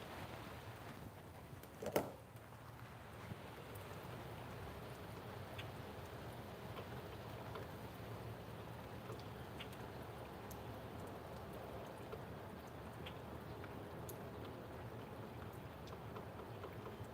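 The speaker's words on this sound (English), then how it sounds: "Let me check to see how long this rain is supposed to last" Steady rain falls over a garden, a soft continuous hiss with scattered drops and one brief knock near the start, with no voices.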